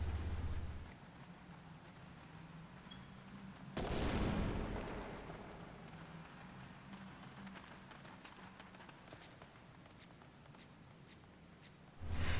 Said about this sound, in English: Then just pick up the fire sand and set it and use the blasting device to move forward